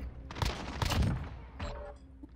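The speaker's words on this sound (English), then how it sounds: "I'll leave you with the footage of me shooting bots" Bursts of game gunfire from shooting bots in Call of Duty: Modern Warfare, a few sharp close volleys in quick succession followed by a later single crack, with no talking.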